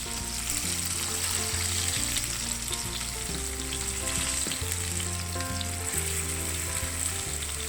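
Rawa-coated seer fish pieces fry in a pan with a loud, even sizzle that runs unbroken, while a low, steady hum from a nearby appliance sits underneath.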